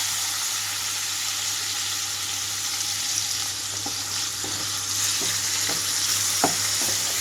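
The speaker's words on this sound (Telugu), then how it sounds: "పన్నీర్ని ఇందులోకి వేసి వేయించుకుంటున్నాను" Paneer cubes frying in a pan of oil seasoned with a pinch of chilli powder, a steady close sizzle with a few soft scrapes and taps of stirring toward the end, no talking.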